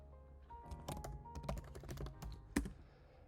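Fingers type on a computer keyboard in quick, irregular bursts of close, crisp keystrokes with short pauses, followed by one heavier tap near the end.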